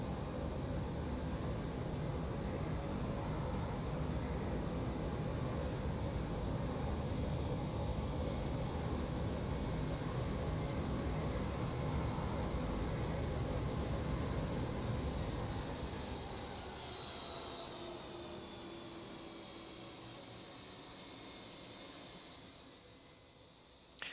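Boeing 757 landing in the X-Plane 11 flight simulator: a loud, steady roar of engine and rushing air that drops off partway through to a quieter whine as the aircraft slows, ending with a brief thump and no talk.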